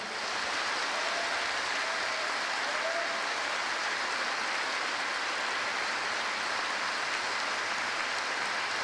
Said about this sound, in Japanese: 改めて拍手を送ってください。